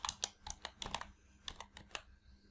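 Quick bursts of keystrokes on a computer keyboard while entering text into an Excel spreadsheet, a dozen or so close, crisp clicks in an uneven rhythm with short pauses, heard alone.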